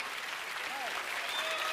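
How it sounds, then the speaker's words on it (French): A studio audience at a French television talent show claps in a brief, steady burst of applause heard over faint voices. "Un tonnerre d'applaudissements pour le rocker italien, s'il vous plaît, mesdames, messieurs."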